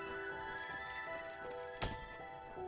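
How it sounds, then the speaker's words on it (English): Metal keys clink and jingle as they are picked up in The Talos Principle, a bright rattle of several small chimes followed by a sharper jangle, close and clear over a quiet ambient hum. "Oh, keys."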